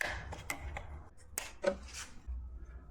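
Snips cutting plastic fasteners off a wire assembly on a Zero SR/S electric motorcycle during a Corbin tail install, heard as several short, sharp clicks and snaps spaced irregularly over faint background noise.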